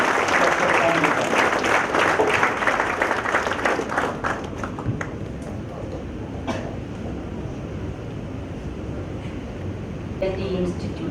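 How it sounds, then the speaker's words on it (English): A college audience applauds to welcome a guest speaker at an institute of technology event; a dense burst of clapping that is loud at first, then thins to scattered claps and fades into room noise, with a voice near the end. "With the claps of you, let's invite Dr. Somalata."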